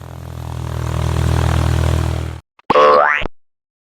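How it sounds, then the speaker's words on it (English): A light propeller plane drones steadily, swelling then cutting off, followed by a short cartoonish boing. "Light airplane."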